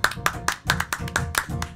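Crowd applause greets a guest's introduction on a Romanian comedy show, a burst of quick, irregular claps rising and falling across the whole stretch, close and fairly loud with no voices over it.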